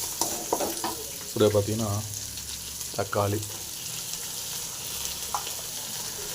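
Tomatoes, curry leaves and coriander fry in a pan for brinjal gravy, giving a constant hissing sizzle underneath, while a voice talks briefly over it near the start.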